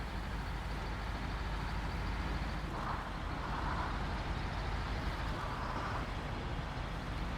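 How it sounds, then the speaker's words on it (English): A Ford F-750 truck engine labours under load while towing a heavy trailer in Snowrunner, a steady low rumble that holds without a break at moderate level throughout, with no voices over it. "This truck is not too happy about pulling it."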